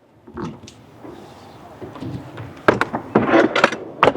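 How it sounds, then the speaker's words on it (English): Drawer slides on a vehicle's full-extension drawer system in an offroad setup run out with rattling metallic rolls and several sharp clunks and knocks, loud and close, growing busier toward the end. "It comes with full extension drawer slides, lockout,"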